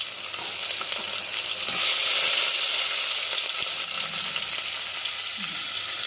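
Onions frying in oil with cumin in a home South Indian kitchen, a steady loud sizzle and crackle running throughout with occasional stirring scrapes.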